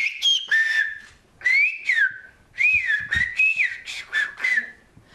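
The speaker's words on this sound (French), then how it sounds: "les élèves de la classe français-occitan n'apprennent pas seulement la langue de leurs ancêtres, mais aussi le sifflement en langue occitane" Students at a middle school in Larens, Béarn, whistle in the whistled Occitan language, several clear melodic whistle phrases rising and falling in short bursts with brief pauses between them, close and fairly loud, with no talking.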